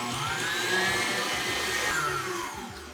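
Cream with lemon pudding mix is whipped by an electric mixer. It gives a close, steady whir whose pitch slowly rises and then falls before easing off at the end, with no talking.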